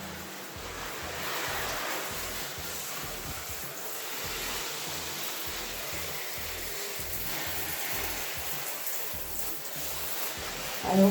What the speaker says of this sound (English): I'm gonna go ahead and just turn on the shower.